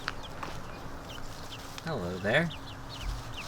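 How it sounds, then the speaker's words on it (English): Chickens cluck and chirp softly in overgrown planted tunnels of a food forest, fairly faint under ambient outdoor sound, with a brief greeting spoken nearby. "I do love hearing the sound of the chickens in these tunnels"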